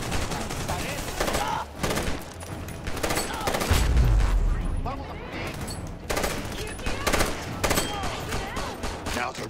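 Rapid gunfire in the Army of Two: The Devil's Cartel shooter rattles almost continuously in dense, loud bursts, with a heavy low thump near the middle and muffled voices underneath.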